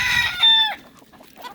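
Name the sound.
rooster clucking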